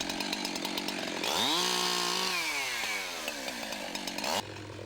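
A chainsaw cutting through a tangle of brush revs up sharply and holds a loud, steady whine that sags and wavers under load, then cuts off abruptly near the end.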